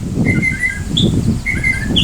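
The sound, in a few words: northern mockingbird calling from a barbecue grill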